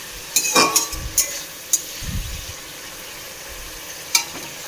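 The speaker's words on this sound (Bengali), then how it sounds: "তো আমি এটাকে এখন একটু ভেজে নিব" Prawns frying in a pan, a steady sizzle under clinks and scrapes of a utensil stirring, with a few sharp metallic taps spaced out across the stretch.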